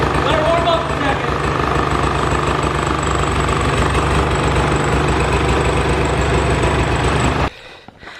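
An ATV engine idles while warming up, a loud, steady rumble with a rough, knocking texture running close and continuous for about seven seconds before dropping away abruptly.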